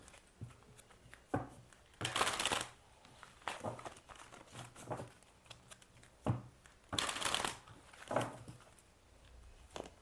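Tarot deck shuffled by hand in a few bursts of riffling and flicking card sounds, close and moderately loud, with quieter taps and handling between.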